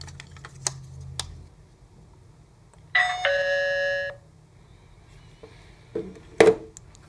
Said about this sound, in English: now I'm going to push the doorbell and we're going to see what happens